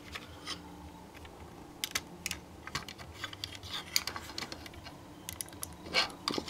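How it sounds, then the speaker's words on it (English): Small plastic parts of a Kotobukiya D-Style Gaofighgar figure click and tap as a hand is pulled off and pushed onto two pegs, making faint, close, irregular clicks and rattles and a brighter snap near the end, with no talk. "You just rip off his hand and plug it in with the two pegs"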